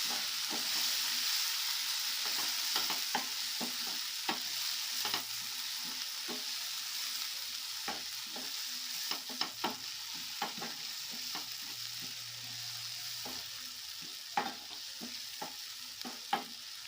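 Spices, half a spoon of chili powder and garam masala, stirred and fried in a pan for palak paneer, giving a steady close sizzle broken by repeated sharp scrapes and clicks of a spoon against the pan.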